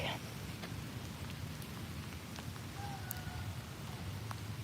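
Faint steady rainfall in a cemetery in Texas with a soft hiss and a few scattered drip-like ticks, quiet and constant throughout.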